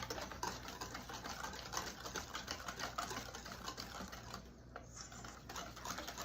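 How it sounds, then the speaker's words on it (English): Wire whisk beating yellow boxed cake batter (Duncan Hines golden fudge mix with oil) in a bowl, a fast steady scraping and clicking rhythm that runs continuously and close for several seconds, no talking. "Just gonna whisk this for a couple minutes."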